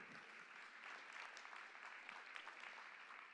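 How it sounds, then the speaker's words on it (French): Faint, steady applause from a French conference audience after a talk on cinema and agile coaching, a continuous patter of many hands heard from a distance. "On applaudit encore Mathieu Vernet, s'il vous plaît."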